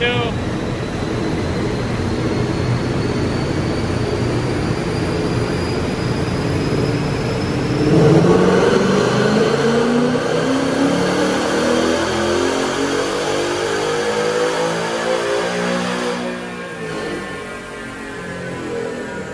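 A Ford Mustang engine roars steadily under load on a dyno in first gear, rising in pitch through a long rev before easing off, loud and close throughout.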